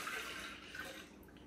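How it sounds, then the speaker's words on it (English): Water pours into a deluxe cooking blender jar, a brief soft splashing rush that stays fairly quiet throughout. "All you need to do is add 3 cups of water to your blender,"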